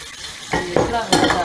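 Onions for chicken biryani sizzle as they fry in a pan, with a few scraping stirs of a spoon over the steady hiss, close and fairly loud, no one talking.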